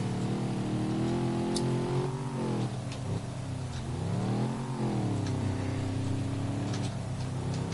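A car engine in Ford Racing 3 revs loudly and continuously, its pitch sweeping up and down with gear changes, up close under a faint wash of road and game noise.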